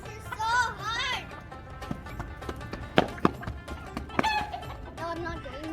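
Chickens cluck and squawk in a village yard, with a few sharp knocks and thumps between the calls and people talking over them.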